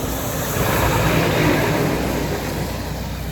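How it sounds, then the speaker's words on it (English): A low, steady engine rumble with broad wash noise from a large tanker ship churning past nearby, continuous and fairly loud throughout. "Big noisy tanker."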